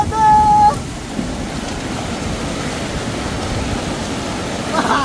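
Fast mountain river in the Himalayan foothills rushing past on a trek crossing, a steady broadband roar of flowing water with wind buffeting the microphone, preceded by a brief tonal beep at the start.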